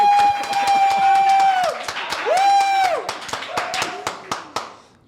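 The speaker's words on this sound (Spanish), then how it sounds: "nos reciban con un fuerte aplauso a Joana y a Marisabel," A studio audience claps steadily for two guests on a Spanish-language interior design talk show, with sharp individual claps mixed in. Someone talks over the start of the applause, and it thins out into scattered claps.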